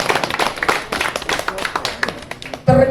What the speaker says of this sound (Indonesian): tepuk tangan untuk semuanya, luar biasa